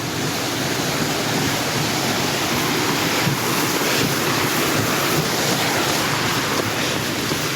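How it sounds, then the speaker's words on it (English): Steady rushing, splashing water from a small man-made waterfall, heard close and continuous throughout with no talk, with some wind buffeting on the microphone. "There's a little mini waterfall right here."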